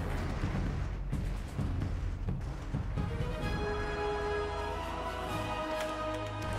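Dense, rumbling battle noise in the video game Die Siedler 5 (The Settlers: Heritage of Kings), with booming cannon blasts, followed by a sustained tonal game soundscape with continuing low booms underneath.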